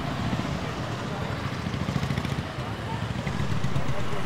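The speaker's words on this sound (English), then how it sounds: "Almost got hit by a motorbike." A motorbike passes close by on a busy street in Nepal, its engine rumble rising near a pedestrian amid street noise and some voices.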